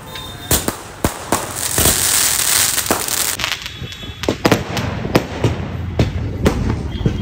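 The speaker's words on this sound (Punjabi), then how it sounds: "ਪਹਿਲਾਂ ਪਟਾਕੇ ਚਲਾ ਦਿੱਤੇ ਆ" Firecrackers go off at a small celebration for reaching 100K subscribers, giving a rapid series of sharp, loud cracks and bangs, some close together, with a brief crackling hiss in between.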